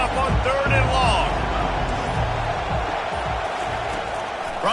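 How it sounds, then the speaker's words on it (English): Broad roaring football stadium crowd on third and long, a steady loud wash of noise from the stands with a commentator talking over it. "Here comes the crowd trying to make it tough on 3rd and long."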